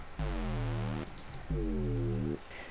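Two deep, sustained synth bass notes from the Operator synth with no filter applied, bright and buzzy with rich harmonics, each ringing about a second with a short gap between.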